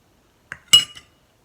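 A metal spoon clinks twice against a mixing bowl while a large spoonful of jam is added to a batter of eggs, sugar and vanilla, short and close with no talking.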